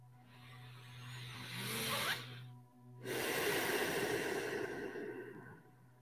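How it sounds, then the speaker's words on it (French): Two slow, deliberate breaths during a guided meditation, a long inhale swelling then a fuller exhale, close and soft over a steady low hum. "prenez quelques respirations conscientes"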